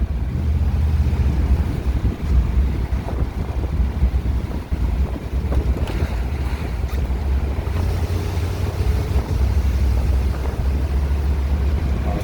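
A 1957 Chevrolet Bel Air convertible with a 283 V8 and solid lifters drives on the road. A steady low engine rumble sits under heavy, continuous wind rush.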